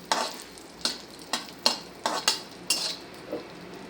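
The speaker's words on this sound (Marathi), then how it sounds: "आता हे ड्रायफ्रूट आपण छानपैकी तुपावरती परतून घेऊया" A spatula stirs and scrapes dry fruits frying in ghee in a pan with a soft sizzle, about eight strokes at a steady rhythm, close and fairly quiet.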